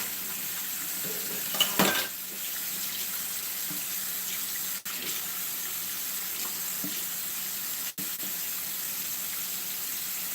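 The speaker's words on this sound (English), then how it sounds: "Super soapy water, give them a good rinse." Tap water rinses hand mixer beaters in a soapy kitchen sink, a steady close rushing splash with a louder burst near the start and a few brief clicks.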